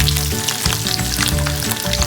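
Potatoes fry in oil left over from frying prawns, giving a loud, continuous close sizzle with bubbling crackle and no voices.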